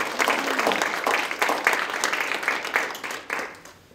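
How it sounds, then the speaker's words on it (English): Crowd applause at a Stoughton Area Community Foundation gathering: many hands clap briskly in a lively patter that thins and fades toward the end. "let's give a round of applause to all these other people."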